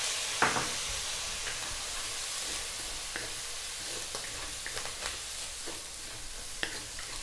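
Chicken fried rice with garlic, carrots and soy sauce sizzles quietly in a pan as a utensil scrapes and knocks against the surface now and then during stir-frying.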